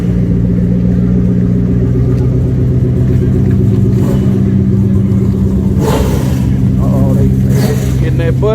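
A turbocharged Mustang drag car revs hard at close range, its engine roaring loudly throughout with rising and falling surges, while voices speak over it.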